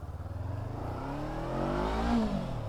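A 2019 Honda CB500F motorcycle engine rises in pitch as the rider accelerates through a bend, a steady mid-pitched drone that climbs smoothly, close and moderately loud with wind noise.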